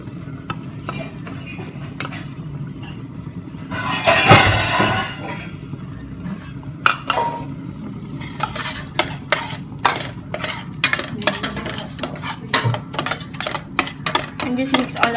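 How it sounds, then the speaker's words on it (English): A spoon or spatula stirs curry paste in a hot pan for Malaysian mee curry. Steady sizzling runs under repeated metallic scrapes and clinks against the pan, with one louder burst of frying partway through. "Now add in the curry paste."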